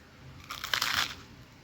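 A close bite into a crunchy grilled cheese sandwich made with mustard and ketchup, heard as a brief cluster of crisp crunches in a quiet setting.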